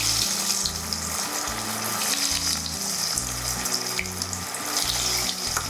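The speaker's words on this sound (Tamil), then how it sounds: "ஸோ நம்மளோட எண்ணெய் நல்லா வந்து சூடாயிடுச்சு. இப்போ நான் வந்து இந்த சீஸ் பால்ஸை ஒன்று எடுத்து போடுறேன்." Potato cheese balls fry in hot oil with a loud, dense, continuous bubbling sizzle, close and steady from start to finish, over a faint background melody.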